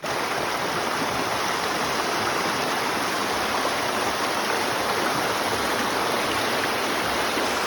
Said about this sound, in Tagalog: So ini dyan na suba is gigan pa inis na tubig sa Togonon Falls.